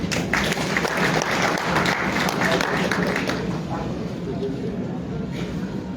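Sustained audience applause at an official government ceremony for a census results release, dense and steady throughout, with a faint voice beneath it.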